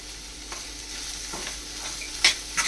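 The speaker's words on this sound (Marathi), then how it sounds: "चांगला परतून घ्यायचा। चांगला थोडा नरम झाला पाहिजे टॅमॅटो, आणि त्यात थोडंसं आधी मीठ टाकायचं।" Tomatoes with salt sautéing in a pan give a steady soft sizzle, broken by a few scraping stirs of a spoon near the end, with no voices.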